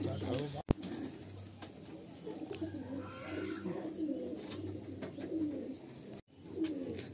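Madrasi pigeons in a full loft coo softly and repeatedly at close range, low rolling calls layered over a murmur of background voices and faint handling noise.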